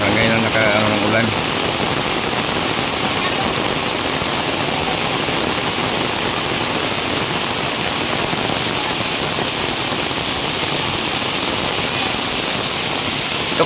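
Steady heavy rain pouring and dripping outdoors, a dense close hiss that lasts the whole time, with voices briefly heard at the start.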